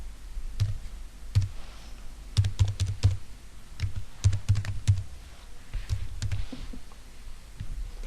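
Clicky keys on a computer keyboard being typed in short bursts of rapid keystrokes with brief pauses, entering a username and password at a Windows Server 2019 login, close and fairly crisp with no talking.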